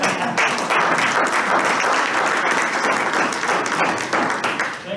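Loud, sustained applause from a room of attendees at a superintendents' advisory council meeting, dense clapping that holds steady for about five seconds and tapers slightly at the end.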